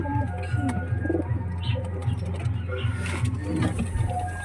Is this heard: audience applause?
no